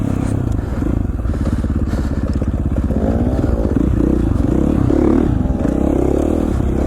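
A 450cc dirt bike engine on the move, a loud close continuous growl with pulsing throttle changes and revs, plus some clattering chassis and riding noise, with no voices.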